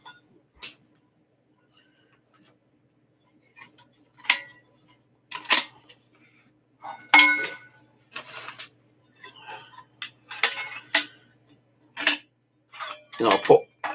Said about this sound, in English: And a little frying pan.